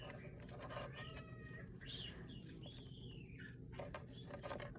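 A cat meowing from outside the room, several faint, drawn-out rising and falling cries spread across a quiet, hissy background.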